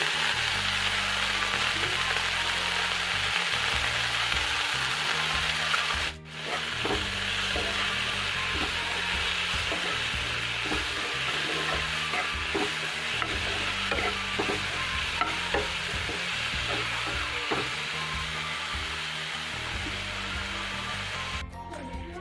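Fiddlehead fern and tomatoes sizzle as they fry together in a pan, with steady stirring scrapes running throughout. The sizzle stays continuous and close, and the stirring comes in irregular strokes.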